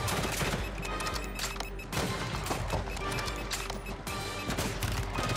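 Dense, rapid video game gunfire crackles almost without pause, loud and close, with sharp bursts and crashes layered over a continuous roar.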